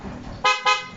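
Two loud, close toots from an upgraded horn on a Barako 175 motorcycle with a modified full-wave electrical system, sounding in quick succession.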